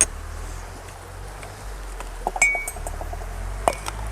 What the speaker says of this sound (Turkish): Şimdi başlıyorum bardakları yüklemeye.